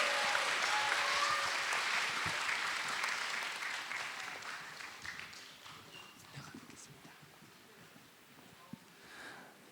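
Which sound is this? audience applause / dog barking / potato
audience applause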